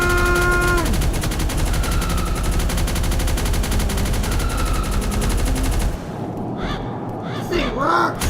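A minigun in a video game fires in a dense, unbroken roar for about six seconds, then cuts off, leaving a voice speaking over quieter game sounds.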